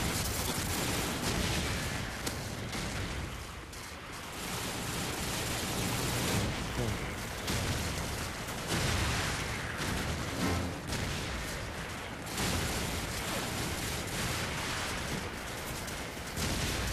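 Bursts of gunfire ring out in the Call of Duty 4 video game, loud and dense with rapid, repeated shots and booming reports that run almost continuously.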